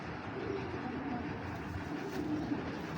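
A pigeon coos softly in a loft, low murmuring calls rising and falling a few times against quiet background noise.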